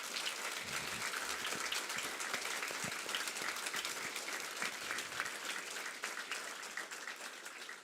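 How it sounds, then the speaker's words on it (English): Steady audience applause at an all-candidates forum, a dense wash of clapping hands that holds at an even level for the whole stretch, fairly distant and without any clear voices standing out. "One more round of applause for the candidates"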